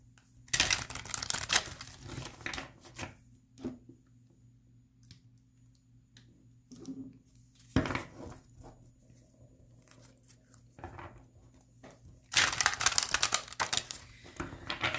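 Tarot cards being shuffled and drawn, heard as brisk papery riffling bursts near the start and again at the end, with quieter soft card handling and pauses in between. No one speaks.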